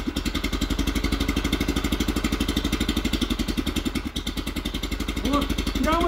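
A Neva walk-behind tractor with a carburetor engine runs on choke in winter, a close, loud, fast regular chugging putter that holds steady, dips briefly, and picks up again.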